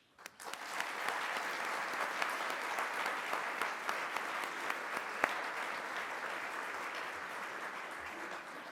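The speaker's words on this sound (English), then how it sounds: "Could you please give a round of applause to those and show your appreciation for a" An audience at a university community gala breaks into steady applause that begins abruptly and holds at an even level, a dense field of clapping from a large room with no talk over it.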